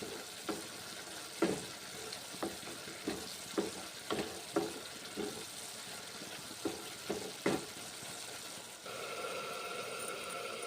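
Spice mix frying in a pan over a soft background sizzle, struck by a dozen sharp, evenly spaced scrapes and taps of a spoon as it is stirred, with the frying continuing alone at the end.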